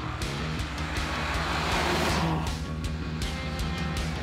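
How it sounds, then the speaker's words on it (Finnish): A 2021 Ford Puma ST's engine drones steadily as the car drives on a track, a loud, sustained sporty hum with rhythmic pulsing and a slight rise in pitch, heard from inside or close by. "Autossa on kivat sporttiset äänet eikä potku lopu radallakaan."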